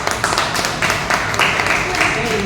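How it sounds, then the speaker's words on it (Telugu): An audience at an agricultural product presentation breaks into clapping, a dense run of hand claps lasting the whole short stretch, fairly close and loud, with a voice speaking over it. "చూడండి, చప్పట్లు కొట్టండి."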